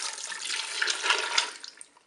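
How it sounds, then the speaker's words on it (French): Broth is poured into a pot holding pasta and whole tomatoes, making a steady close splashing and gurgling stream that tapers off near the end, with no voices. "Et ensuite je vais verser tout de suite mon bouillon."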